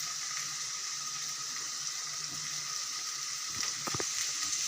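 Chopped tomatoes and salt frying in a pan for a Tamil medicinal kuzhambu, giving a steady, moderately loud broadband sizzle with a few brief splashy bursts near the end.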